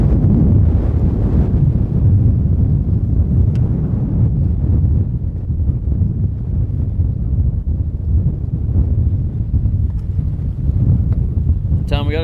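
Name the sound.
strong wind blowing into the microphone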